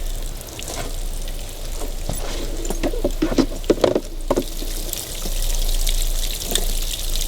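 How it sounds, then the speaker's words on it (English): Evinrude 90 HP outboard motor under restoration, squirting water from its outlet: a faint, sizzling, sputtering trickle with irregular splashy bursts, steady and close. "We're going to see if it actually pisses water."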